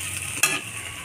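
Onions and vegetables fry in a pan for masala oats, giving a short, steady close sizzle with one brief stirring scrape partway through.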